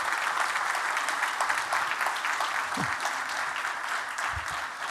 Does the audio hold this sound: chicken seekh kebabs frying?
no